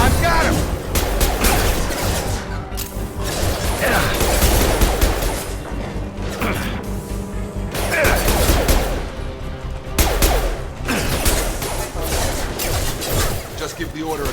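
Gunfire from the Mass Effect 2 video game: dense, rapid bursts and sustained fusillades of shots with crashes and booms, loud and continuous across the whole stretch, mixed with game music and character voices talking.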